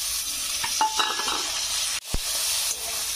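Vegetables and potatoes hit hot oil and are stirred, a loud continuous sizzle with scraping utensil strokes and a brief clatter partway through.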